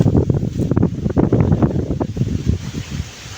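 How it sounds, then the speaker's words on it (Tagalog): Strong wind buffets the microphone in loud, uneven gusts, a heavy low roar that surges and eases over a few seconds with no one speaking. "Kusog sangin."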